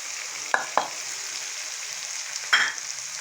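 Chicken curry masala with turmeric frying in a pan, a steady soft sizzle broken by a few sharp clinks of a spoon stirring, with no talking.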